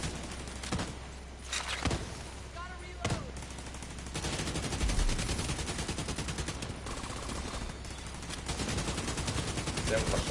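Rapid bursts of automatic gunfire from a shooting video game, repeated sharp volleys with brief gaps, loud and close, with someone talking faintly between shots.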